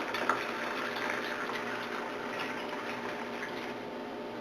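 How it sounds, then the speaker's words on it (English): Pineapple juice poured into a blender makes a soft, steady liquid wash that runs evenly for a few seconds at low volume, with no voices. "I've already shaken up my pineapple juice, so I'm going to add in some"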